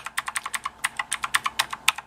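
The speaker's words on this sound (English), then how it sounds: "From the sound of it, you do hear the mechanical sound as you would with any keyboard" Quick, uneven clacking on a Jelly Comb 87-key mechanical gaming keyboard: about twenty crisp keystrokes in a fast, irregular rhythm, close and clear with no talking.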